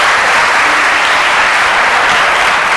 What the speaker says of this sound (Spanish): Damos un fuerte aplauso al doctor Ernesto Blanco.